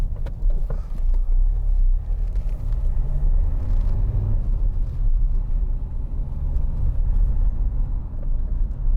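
A 2015 Dacia Duster 1.5 dCi diesel on the move, heard from inside the cabin as a loud, steady low rumble of engine and road noise with a few light knocks.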